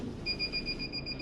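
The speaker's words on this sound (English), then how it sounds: "that beeping's just to say we're hooked up." A quiet, steady electronic beeping repeats rapidly in a regular pattern over low background hum, from a 2017 Swift Freestyle SE 664 motorhome after the engine starts.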